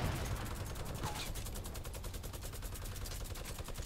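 Rapid automatic gunfire in the video game Fortnite, a fast continuous rattle of shots with faint background noise.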